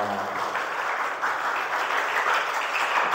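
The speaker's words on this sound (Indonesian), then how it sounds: "tepuk tangan ya." A room of participants at a school counselling training session claps together in a steady, dense round of applause, moderately loud and even throughout with no talk over it.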